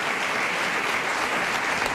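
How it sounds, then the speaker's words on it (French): A studio audience applauds, a dense steady burst of many hands clapping at once, close and loud throughout. "Merci Mathilde Dimer, qu'on peut applaudir bien fort."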